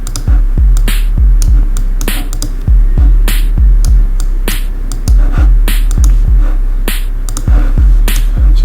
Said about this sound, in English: So this is the first kick, guys.